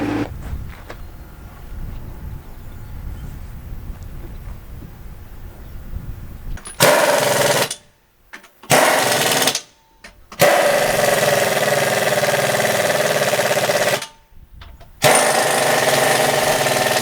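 A tractor engine runs loud and steady before hay raking on a second-cutting hay day, coming in after a quieter stretch and cutting out briefly a few times with short gaps between runs.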